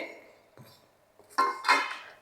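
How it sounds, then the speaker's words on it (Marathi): Roasted coconut being moved onto a plate, with a couple of soft taps followed by two brighter metallic clinks of utensil on dish, close and fairly quiet, with no talking. "आता मी एका प्लेटमध्ये हे काढून घेते"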